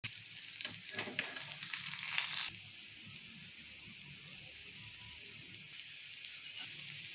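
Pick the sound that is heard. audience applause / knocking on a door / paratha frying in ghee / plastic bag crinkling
paratha frying in ghee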